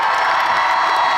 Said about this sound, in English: One more big round of applause for Mr.